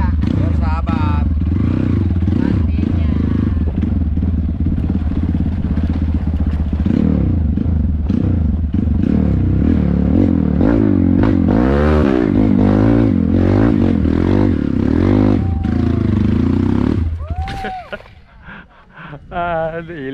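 Bore-up Honda CRF 300cc motorcycle in Gorilla spec climbing an extreme hill, a loud close engine droning steadily for about seventeen seconds with throttle swells, then cutting out abruptly into quieter scraping sounds.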